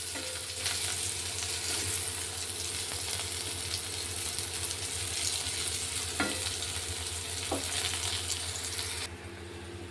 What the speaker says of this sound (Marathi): तोपर्यंत आपलं कारलं पण छान फ्राय होतंय.